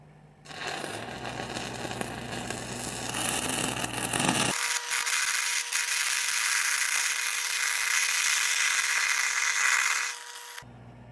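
Stick welding a bead at 125 amps on a heated slammed-gap joint, a loud steady crackling hiss that holds for several seconds and then cuts off, with no talking.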